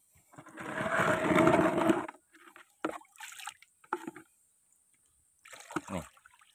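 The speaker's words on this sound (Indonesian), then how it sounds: "Air mengalir terus." Water runs out of the drainage of a potted grapevine's growing medium after fertilizing, heard as a trickling, splashing burst for about two seconds followed by a few shorter drips and splashes, fairly close.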